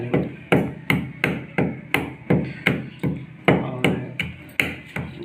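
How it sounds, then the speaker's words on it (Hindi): Black peppercorns pounded by hand for a tulsi decoction, a series of about fourteen sharp, evenly spaced thuds and clinks, close and loud, with a single spoken word. "देखिए कूटा जा रहा है गोल मिर्च को, पूरी तरह से आपको क्रश कर लेना है इसको।"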